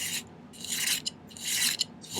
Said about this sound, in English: Need to do a bit more filing on this one